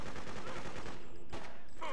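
Gunfire in the video game Freedom Fighters: a dense burst of rapid shots up front, thinning into scattered cracks and a final distant pop, with no talk.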